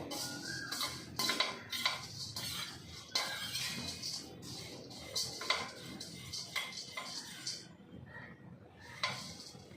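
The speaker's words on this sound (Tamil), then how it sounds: "கருக விடாமல் வறுத்துருங்கோ." Ingredients for angaya podi dry-roasting in a pan, heard as repeated clinking and scraping of a spoon against the pan in an irregular rhythm, fairly close, with no talking.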